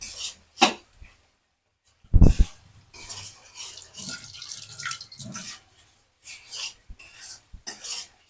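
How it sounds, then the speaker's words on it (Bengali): Water splashes and trickles into a pan of frying mustard-poppy spice paste for a pabda fish curry, heard as irregular pouring bursts and wet rasping scrapes separated by short silences. "তখন একটু একদম জল দিয়ে মামনি। দেবে।"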